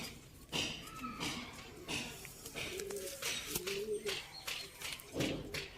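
Pigeons of a female breeding pair, offered for sale in Sialkot, coo in soft repeated low calls throughout, with faint bird chirps and background noise.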